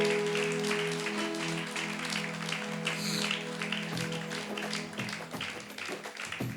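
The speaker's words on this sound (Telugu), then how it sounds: "గట్టిగా చప్పట్లు కొడదాం." A church congregation claps loudly and steadily at a Pentecost festival service, the clapping blending with music and singing throughout.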